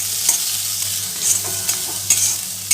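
Chopped tomato and lightly browned onion are stirred in a frying pan, a close, steady sizzle marked by several brief scraping strokes over a low hum.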